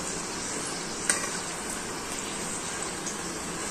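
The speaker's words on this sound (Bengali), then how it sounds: "এটা কিন্তু অল্প আঁচে ভাজতে হবে, নাহলে ভেতরটা কাঁচা থেকে যেতে পারে।" A puffy egg, potato and flour snack fries slowly in oil over low heat, giving an even, continuous close hiss with only a tiny pop or two.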